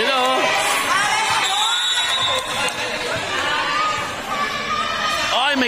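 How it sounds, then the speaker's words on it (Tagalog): Spectators at a men's division volleyball semifinal in a barangay gym shout and cheer loudly and continuously, a dense crowd roar with whoops and children's shrieks rising and falling throughout. "Sigawan sila"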